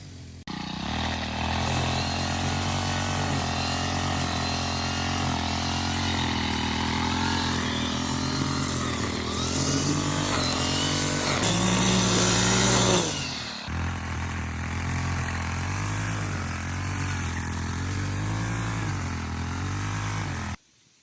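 A weed whacker string trimmer engine runs steadily in a garden while strawberries are weeded, a loud continuous buzzing drone that rises in pitch for a moment, drops off sharply, then settles back into a steady run before cutting out.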